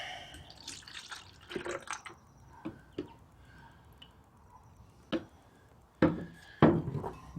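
Liquid lawn products, Air-8 and Humic12, are poured into a measuring container, giving faint dripping and splashing with a few louder splashes near the end and no talk.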